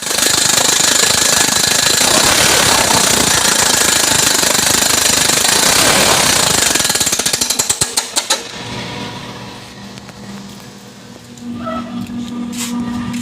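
Broken lawn mower engine running with a loud, harsh rapid clatter for about eight seconds, then sputtering out to a quieter idle-like hum with some background noise.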